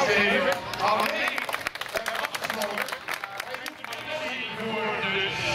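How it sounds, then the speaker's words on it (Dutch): Applause from the crowd gathered before the start of a running race, steady broadband clapping lasting several seconds under a voice speaking over it. "Zullen we nog één applaus geven?"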